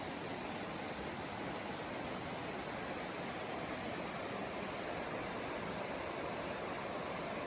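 Steady rushing river water near Elkmont fills the clip, a constant broadband wash at moderate level with no voices or breaks.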